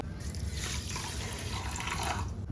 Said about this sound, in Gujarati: તો આપણે મોરસ પલ્લે એટલું જ પાણી નાખવાનું છે।